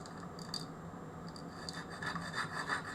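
Powdery oxidised paint scraped off thick aluminium, a close, steady rasping rub with repeated short scratchy strokes, heard alone.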